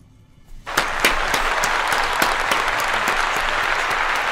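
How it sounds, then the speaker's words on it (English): Applause from a Bad Batch episode playing on screen: after a quiet start, a sudden burst of crowd clapping rises and continues as a dense, steady patter at a moderate level. "There's a lot of applauding for this clone."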